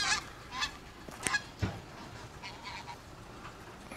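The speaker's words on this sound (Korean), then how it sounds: "갈매기가." Seagulls call at a foggy seaside boat dock in Maehyang-ri, giving a few short, scattered cries that sound fairly faint over open-air noise.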